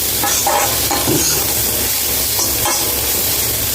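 Steady, loud sizzling of eggplant and bitter gourd sautéing in a pan for a Tamil curry, with occasional stirring scrapes over the continuous hiss.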